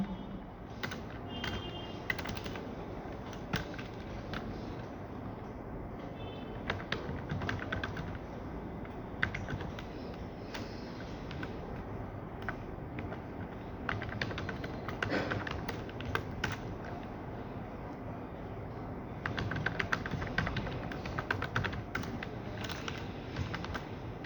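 Quiet, steady clicking on a computer keyboard as a line of Python code is typed, with irregular keystrokes and short pauses over a faint background hum.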